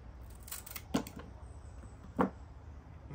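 Shears cut back dahlia stems with two sharp, distinct snips about a second apart, close but fairly quiet, over a faint background and no talking.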